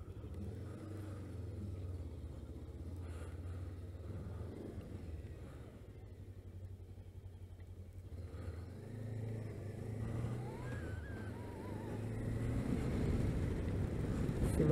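Jawa RVM 500 motorcycle engine running while riding, heard from the saddle on a test day in Bratislava: a steady low engine rumble with shifting pitch as it accelerates, wind buffeting the microphone, growing louder toward the end.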